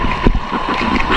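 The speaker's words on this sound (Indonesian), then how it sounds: "jadi anginnya terlalu kencang nih" Strong west-monsoon wind at sea off Aceh buffets the microphone from a boat, a short loud roar with a low thump near the start.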